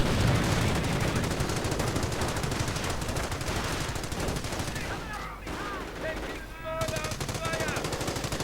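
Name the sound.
heavy machine gun firing in Company of Heroes video game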